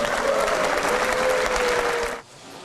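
Lawmakers give a sustained round of applause for floor leader Hong Ik-pyo and his team; the dense, even clapping stops abruptly after about two seconds.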